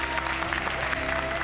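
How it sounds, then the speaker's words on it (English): MasterChef Australia contestants in the kitchen give themselves a round of applause. Brief, steady clapping from a small group plays over a low background hum and faint tonal studio sound. "Give yourselves a round of applause."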